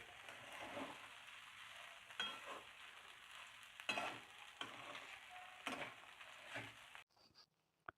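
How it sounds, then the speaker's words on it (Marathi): Soaked sabudana (sago) khichdi fries in a pan while being stirred, giving a soft, constant sizzle broken by periodic scraping strokes, quiet and close, ending with a few light taps. "याला आपण दोन ते तीन मिनिट व्यवस्थित फ्राय करून घेऊ याच्यामध्ये सगळा मिक्स करून घ्यायचा आहे व्यवस्थित"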